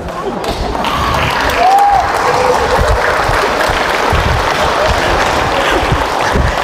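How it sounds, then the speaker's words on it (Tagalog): Congregation at a church talk in Alaminos, Laguna gives a sustained round of applause, loud and fairly even, with crowd murmur underneath. "Yung palakpak nila parang nagpatay ng lamok."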